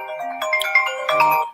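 A phone plays a short melodic notification chime close by, a quick run of bright tones in two bursts with no talking.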